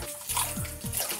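Tap water runs from a faucet into a plugged washbasin bowl while the basin is rinsed during soap cleaning, a steady close splashing and gurgling fill with no voices.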